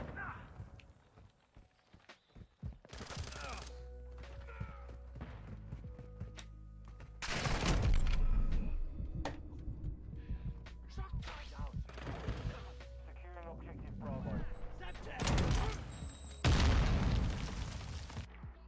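Gunfire in a video game rings out in bursts, with loud broadband blasts around the middle and end of the stretch and quieter shots and footsteps between them, while someone talks throughout.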